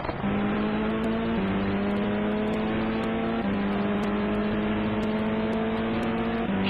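Race cars battle closely on the track at Fuji during a 10-hour endurance race, engines droning loud and steady with rising and falling pitch as they shift through gears, continuous throughout with no talk.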